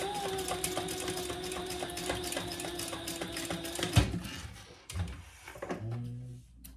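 A sewing machine runs a steady line of topstitching along a folded edge, a continuous close mechanical whir with a rhythmic needle beat, then slows and stops with a few handling knocks at the end.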